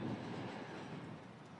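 A Union Pacific passenger extra train passes on a triple-track mainline, a low rumbling roar of rolling cars that is loudest at the start and eases slightly, steady with no voices.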